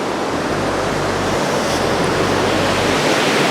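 Ocean surf washing steadily onto a beach, a continuous broadband roar with no clear breaks, close and fairly loud, no voices present.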